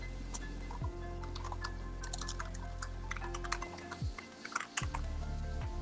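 Computer keyboard keys click in light, irregular bursts over a low steady hum, with brief pauses between strokes.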